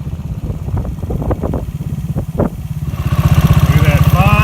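A cheap Chinese motorcycle engine hums steadily while riding on a road in Paraguay, a loud continuous low drone with wind rush that grows louder and rougher in the final second.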